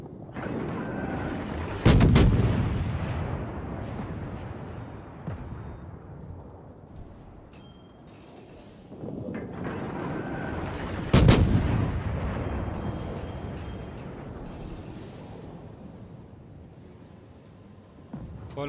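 Two heavy naval artillery salvos in the World of Warships video game boom out about nine seconds apart, each a loud blast fading into a long rumbling tail over a steady ship engine hum.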